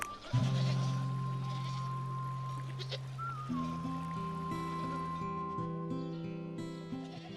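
Goats that roam chestnut woods and maquis scrubland bleat loudly and close, one long wavering call followed by overlapping cries, with no speech.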